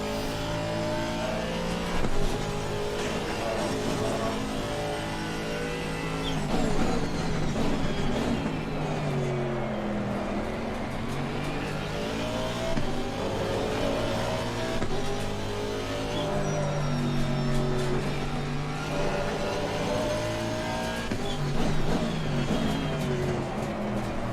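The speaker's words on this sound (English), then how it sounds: "just being gentle back on the accelerator, not get too much wheel spin as we come out of turn 10" A GT race car's engine revs and accelerates out of turn 10 at Kyalami in Assetto Corsa Competizione, sustained loud engine tone rising and falling with throttle and gear changes, no talk.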